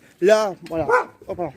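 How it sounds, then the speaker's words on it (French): A few short barks from a neighbor's dog mix with a nearby person's quick spoken remarks. "c'est un chien chez les voisins"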